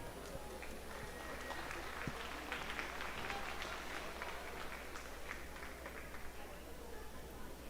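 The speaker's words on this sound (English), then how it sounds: "Let's get one more round of applause for these young ladies." Faint, distant applause from a crowd at a Katy ISD market steer livestock show, scattered clapping over a steady background hum, no talk standing out.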